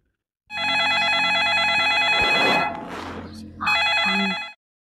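A telephone rings with a repeating electronic warble, loud and close, briefly interrupted midway by voices and a clatter before ringing resumes, set in a Sundanese comedy sketch.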